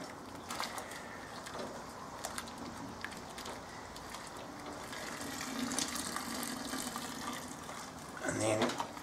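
Liquid swishes around inside a home-brewing pot after a late hop addition for an APA, a continuous close sloshing and gurgling wash that swells near the end.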